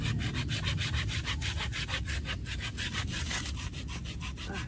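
A hand saw cuts through pine ivy vine stems outdoors, a continuous rasping back-and-forth of rapid, even strokes that stays close and fairly loud the whole time, with no voices.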